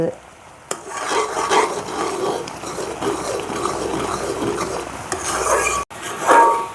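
A spoon scrapes and stirs thick jamun fruit jam in a pan, a steady rasping, rubbing sound lasting several seconds, with a few sharper clinks against the pan near the end.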